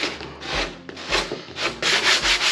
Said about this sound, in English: It's a whole lot of sanding to get it down to where it should be